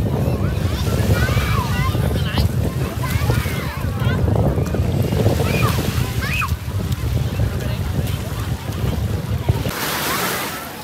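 Sea waves and wind at a beach in Phu Yen form a loud, continuous wash of surf with gusty wind buffeting the microphone, while voices chatter and call faintly in the background.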